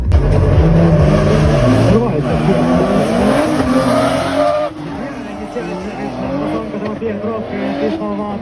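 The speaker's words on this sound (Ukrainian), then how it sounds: "він їде на BMW e 46 білого кольору" A white BMW E46 drift car at a street drift event roars with a loud, sustained engine note, revving and shifting pitch as it slides, with tire squeal and a dip in level midway.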